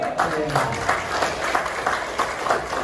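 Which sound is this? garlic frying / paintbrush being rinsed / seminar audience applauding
seminar audience applauding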